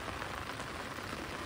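Rain falls steadily in a wide even hiss over a creek, with no breaks.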